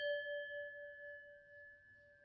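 A metal percussion bell struck with a hard mallet rings out in a single clear, bright tone that sustains evenly and slowly fades, quiet and isolated.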